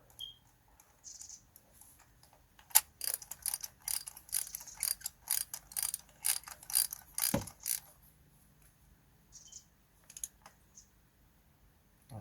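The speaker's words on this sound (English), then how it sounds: "So now I'm just gonna torque it up" Wrench ratcheting on the coil pack bolts of a Vauxhall Opel Corsa engine with a misfire, a quick run of close, crisp clicks followed by a few sparse ticks.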